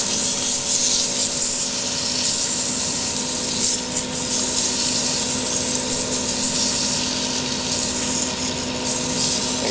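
A wood lathe spins a wooden pen blank while it is sanded, giving a loud, continuous rough hiss over a steady motor hum.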